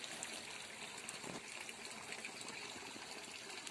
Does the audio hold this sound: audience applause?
no